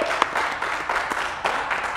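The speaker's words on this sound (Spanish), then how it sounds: "Aplauso, por favor." Studio audience applauding a guest on a Spanish-language TV talk show, a steady dense wash of clapping that holds throughout at moderate loudness.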